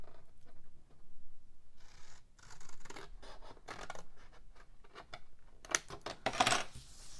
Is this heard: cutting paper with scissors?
yes